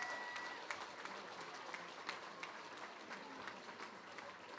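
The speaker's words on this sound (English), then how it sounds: "please give again another big round of applause for both these young fighters" Steady applause from a sizable crowd at a UKFC fight night after a five-round bout, dense clapping sustained throughout with scattered louder claps and a faint murmur underneath.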